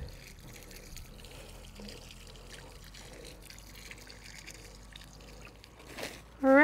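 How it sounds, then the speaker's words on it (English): Water poured onto a newly planted ninebark shrub, a faint, steady trickle and splash at close range, with a brief louder burst at the very end. "I'm going to go ahead and water again."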